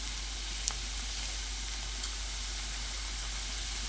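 Green chillies and onion fry in hot oil for an egg bhujia with mixed vegetables, making a steady, close hiss of sizzling with one faint clink early on.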